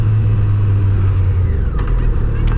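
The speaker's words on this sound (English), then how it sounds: "The bike I'm on today is a 2004 Yamaha FJR 1300." A 2004 Yamaha FJR 1300 motorcycle under way, its engine a steady low drone with wind rush mixed in, close and loud, with no spoken words.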